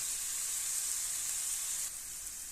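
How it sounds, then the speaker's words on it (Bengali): Onions sautéing with salt in a pan make a bright, even hiss of sizzling oil that runs steadily and drops slightly near the end. "আমি পেঁয়াজটা আবার সুন্দর করে কষাই নিতেছি"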